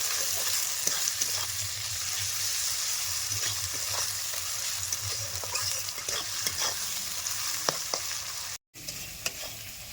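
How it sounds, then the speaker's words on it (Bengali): Salted onions fry in a pan with a continuous close sizzle and frequent scraping stirs, ending in a brief dropout before the frying resumes, with no voices. "এবার পেঁয়াজটা ভালো মতো একটু ভাজা ভাজা করে নেবো"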